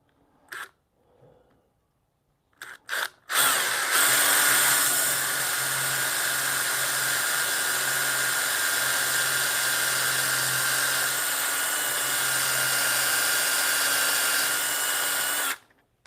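A power drill with a 1/4 inch Forstner bit bores a hole in wood for a spiral ribbon rail in a home workshop, whirring steadily and loudly for about twelve seconds after a few short clicks and taps.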